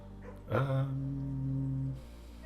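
A dog in the video game Blue Prince gives one drawn-out, whining call that dips in pitch and then holds steady for more than a second before it stops.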